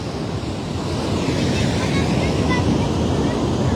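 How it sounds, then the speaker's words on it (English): Ocean waves wash on a beach at a hatchling release, a continuous broad roar of surf with wind buffeting the microphone. "Trying to listen for the waves"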